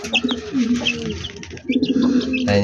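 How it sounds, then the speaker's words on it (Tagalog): Small chicks, black like their mother, chirping in short repeated peeps close by, with soft cooing bird calls layered over them. "Tatlong sisiw andyan Tatlong sisiw guys."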